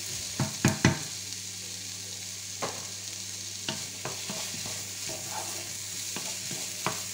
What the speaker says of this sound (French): on fait revenir jusqu'à que nos oignons deviennent translucides